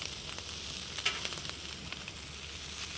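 Lamb chops dropped back into a hot pan, a soft steady sizzle with a brief sharp clatter and a few light knocks as they land, fairly quiet, no talking.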